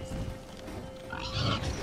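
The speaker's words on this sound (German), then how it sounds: "der wütet, das kleine Schweinchen" A small pig in The Witcher 3 grunts and snorts in a rough, continuous run, close and fairly loud, with no talking.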